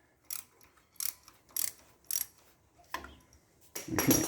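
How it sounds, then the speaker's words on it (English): A clamp on the distributor of a VW Beetle engine being loosened with a tool, heard as four evenly spaced ratcheting clicks, close and quiet, followed by a louder rustle of handling. "so back off our distributor clamp."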